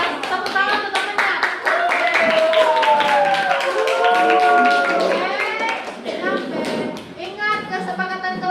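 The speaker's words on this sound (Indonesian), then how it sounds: "Kalau menutup presentasi, tepuk tangan untuk temannya." Classroom applause for a classmate who has just presented, many small hands clapping steadily at close range, with children's chatter and voices mixed throughout.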